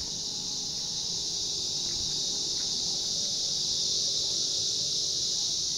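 A dense, continuous high-pitched insect buzz fills the air, steady and loud, like a chorus of cicadas with faint background noise beneath.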